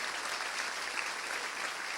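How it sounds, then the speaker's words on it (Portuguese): Church congregation applauding during a Portuguese-language evangelical service, a steady, dense wash of clapping held at an even level for the whole stretch, moderately near with no pauses. "Quem pode aplaudir Jesus por isso?"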